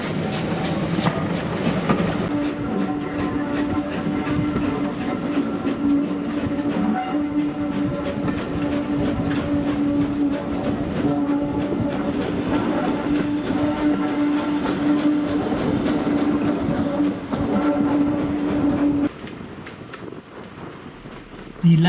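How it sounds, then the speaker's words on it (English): Former Great Western auto-fitted pannier tank steam locomotive hauling six Mark I carriages on the South Devon Railway, with a steady loud rumble of wheels and rolling stock throughout and a sustained low tone, easing slightly near the end. "The locomotive on duty was a former Great Western auto-fitted pannier tank number 6412, which had a sizable load of 6 Mark I carriages."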